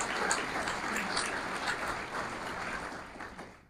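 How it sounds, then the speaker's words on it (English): Full, sustained applause from a luncheon crowd at an entrepreneurship center event, many hands clapping together, tapering off at the end. "Please give yourselves a big round of applause."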